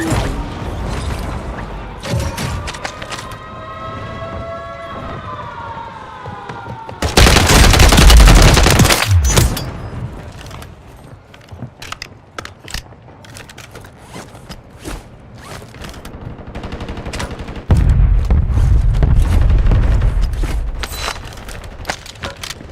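Loud, close gunfire from Apex Legends comes in rapid automatic bursts over a busy game soundscape of mechanical clatter and a rising whine.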